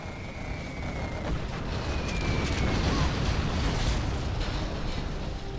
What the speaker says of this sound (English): Sounds like artillery.